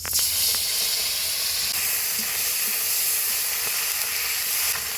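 Catla fish oil sizzles and hisses in a hot pan, a steady bright frying crackle close by that continues evenly without pause.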